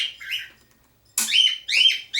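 Small songbird chirping indoors in several bright, close, high tweeting phrases with short pauses between them, heard alone without talk.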